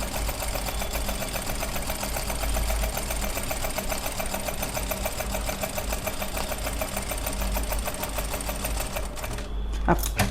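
A sewing machine stitches a diagonal line of resham thread embroidery, running in a steady, rapid mechanical rhythm close by, stopping briefly near the end.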